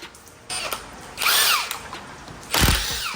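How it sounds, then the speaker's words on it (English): A pneumatic air hammer whirs in short, loud bursts that rise and fall in pitch, with brief pauses between them, close and without speech, while replacing axles on a 2012 Infiniti G37. "we're probably gonna air hammer"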